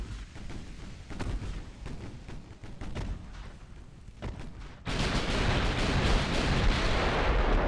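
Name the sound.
naval gunfire in video game Ultimate Admiral: Dreadnoughts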